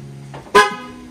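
A Ford car horn sounds a single short, loud honk, set off remotely from the key fob, with a faint steady tone before it and a brief fading ring after.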